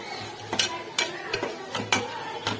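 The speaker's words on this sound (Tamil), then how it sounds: "இதில் நல்லா வதக்கட்டும்." Chopped tomato and coriander being sautéed in a pan for a spiced gravy, with a spoon stirring and scraping in repeated, evenly spaced clinks and scrapes at a moderate level, with no talking.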